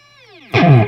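Guitar through a Boss PS-6 Harmonist pedal: a held note bends downward in pitch for half a second, then a loud strummed chord cuts in and rings out.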